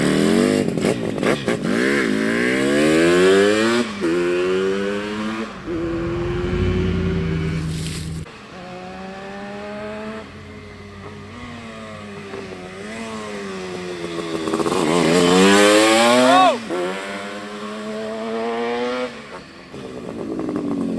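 A 1975 Yamaha RD350 two-stroke six-speed cafe racer with DG expansion pipes and Mikuni carbs revs repeatedly, its raspy, crackling exhaust rising and falling in sharp bursts before settling into a buzzing idle, loud and close.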